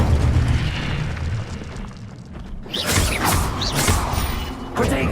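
An Incendio fire spell is cast in Hogwarts Legacy, a sudden whooshing burst of flame that follows a rumbling mechanical clatter, then fades into crackling bursts.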